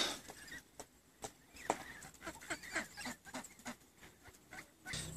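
A family of swans on an estuary gives a run of quiet, irregular honks and calls, close by but faint, with no talking over them.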